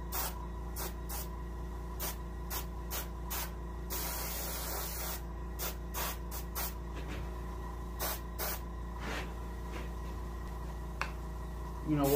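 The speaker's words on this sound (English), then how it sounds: "You know, watch out for overspray." Airbrush spraying paint onto an Arctic char taxidermy fish mount, a steady close hiss broken by many short bursts of spray, with a low mechanical hum running beneath throughout.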